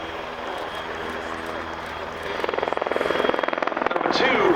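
A Czech Air Force W-3 Sokół helicopter flying a display at the Royal International Air Tattoo, its rotor and engine roar swelling into loud rhythmic blade chop as it nears, with a commentator's voice underneath.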